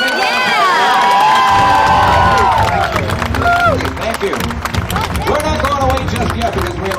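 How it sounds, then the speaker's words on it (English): Crowd at a Star Wars Weekends fan event cheers, whistles and shouts, with children's high voices and clapping mixed into a loud, lively burst that gradually thins into scattered calls and chatter. "Let's give a big round of applause."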